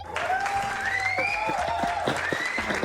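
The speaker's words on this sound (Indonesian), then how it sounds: "boleh dong penonton tepuk tangan buat mereka" A podcast audience claps steadily under a mixed background, with a faint cheer and some brief voices.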